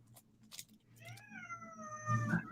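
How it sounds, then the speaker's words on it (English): A cat lets out a single drawn-out, wavering meow at moderate distance, rising then tailing off, with a few faint clicks and rustles before it in an otherwise quiet room. "Kitty."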